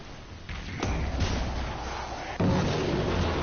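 A heavy boom from an antimatter shot in the video game Warframe, landing over a dense roar of game noise, with a second loud impact swelling in near the end.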